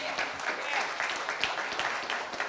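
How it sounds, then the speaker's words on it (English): An audience at a keynote address claps steadily in sustained, dense applause, filling the room without pause. "Let's give Mr. Martin another round of applause."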